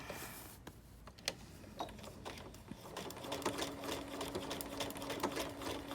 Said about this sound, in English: I usually will use my needle up down and manually do the stitches myself.